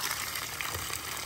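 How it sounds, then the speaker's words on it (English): Water gushes steadily at a local park, a continuous close rushing hiss with no pauses. "It's water."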